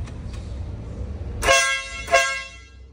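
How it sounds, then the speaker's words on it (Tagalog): A new motorcycle's horn honks twice in quick succession, loud and close, after a low idling engine rumble. "Sound check natin yung busina."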